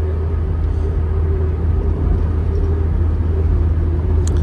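Car engine held near 3000 RPM at highway speed after an automatic gearbox service, a steady loud low drone and road rumble from inside the cabin, unbroken for the whole stretch.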